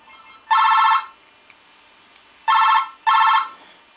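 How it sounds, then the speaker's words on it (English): A telephone rings in a workshop, three loud electronic trilling bursts, the first alone and the last two close together, with faint clicks between them. "This phone don't stop ringing."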